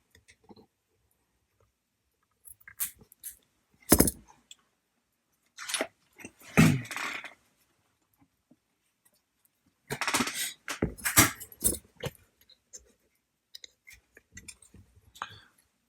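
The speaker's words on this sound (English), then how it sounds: "so now we're going to snip the edges" Sharp snips of wire cutters trimming the leg ends of a CoilMaster vape coil build, a few close, crisp clicks spread out with handling rustle between them, no talking.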